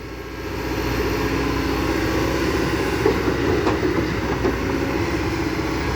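A Kobelco SK200-10 excavator engine revving on a worksite: a steady, loud diesel drone builds up after a moment and holds, with faint rhythmic clatter over it. No voices.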